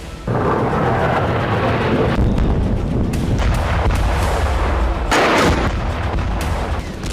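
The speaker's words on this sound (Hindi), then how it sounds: "16 अक्टूबर की रात यमन में धमाकों की रात थी।" Heavy, booming blasts in Yemen rumble in quick succession, loud and sustained with repeated sharp bursts, like a barrage of distant explosions.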